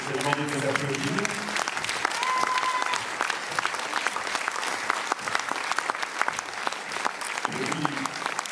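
Audience at a Paris film premiere of Augustine applauding the cast, a dense, steady burst of clapping from a full room lasting throughout, with someone talking over it at the start and end.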